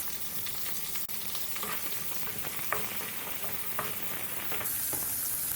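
Onions sizzling in a pan with curry leaves and popped seeds, a steady close crackle and hiss broken by occasional spoon stirs and scrapes, rising slightly near the end, with no one talking.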